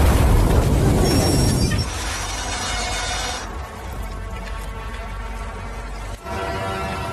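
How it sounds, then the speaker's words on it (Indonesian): A loud, rumbling rocket explosion blast that fades into a lingering roar and crackle, with voices faintly underneath. "Susunan truk-truk itu terhenti dengan sebuah tembakan roket."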